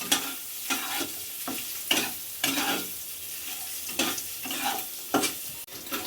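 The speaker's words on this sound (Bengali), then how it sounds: "পনিরগুলো লাল লাল করে ভেজে নিচ্ছি" Paneer cubes frying in a pan with a little salt and turmeric, a steady close sizzle broken by repeated stirring scrapes in an irregular rhythm, with no talk.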